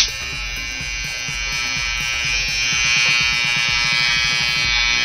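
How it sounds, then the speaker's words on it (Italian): Electric hair clippers buzzing in the game GTA 5 as a girl's head is shaved, a loud steady high-pitched motorized drone with a faint pulsing rhythm underneath, continuous and close for the whole stretch. "Taglio i capelli alla mia ragazza."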